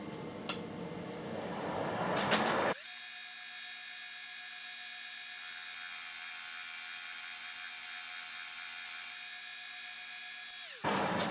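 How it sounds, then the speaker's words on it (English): A milling machine takes fine passes off a motorcycle triple clamp for an Airhead cafe racer build, a steady high whirring spindle and cutter whine holding evenly for about eight seconds between brief handling noises, with no talking. "I'm taking that ridge off with this milling machine at my brother's house"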